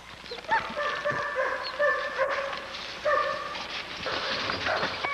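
Dogs at a kennel yard barking in short, repeated bursts mixed with higher whimpers and yips, close and fairly loud, with no one talking.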